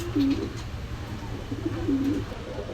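Pigeon of an old bloodline cooing twice, close and clear, each coo a short rolling call over low background hum.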